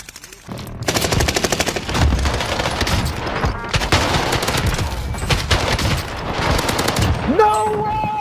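Rapid automatic gunfire from Call of Duty Warzone on Rebirth Island, long loud bursts of machine-gun fire with short pauses between volleys, ending in a brief electronic tone.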